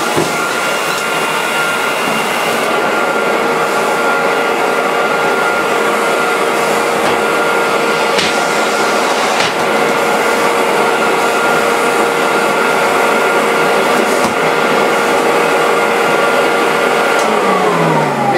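A vacuum cleaner fitted with a straight suction nozzle runs steadily on deep piled carpet, a loud continuous whine and roar held close throughout with no talk.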